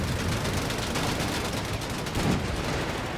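Sustained gunfire and battle noise from Panzer tanks in Company of Heroes 3, a dense continuous roar of shots and explosions with no clear pauses.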